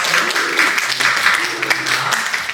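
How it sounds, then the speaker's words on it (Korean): A Korean church congregation at Sunday worship claps steadily to welcome visitors, the dense applause close and continuous, with a voice speaking over it. "함께 환영의 박수"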